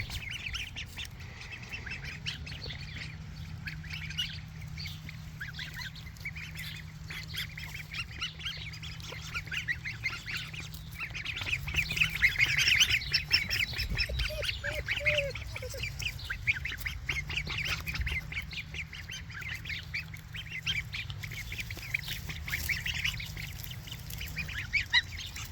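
Flock of farm ducks quacking steadily and close, a busy overlapping chorus of honks and quacks that swells midway and continues throughout with no talk.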